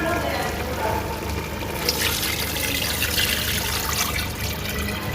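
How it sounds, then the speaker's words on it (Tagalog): Steady rushing of water pouring into a cooking pot for chicken tinola, a continuous broadband splash that swells slightly partway through, with no voices. "Lalagyan na natin ito ng tubig"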